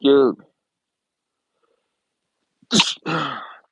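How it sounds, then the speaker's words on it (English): A short vocal burst at the start, then silence, followed by a sharp sneeze-like outburst and a trailing voiced exhale, close to the microphone. "excuse me, I feel a sneeze coming."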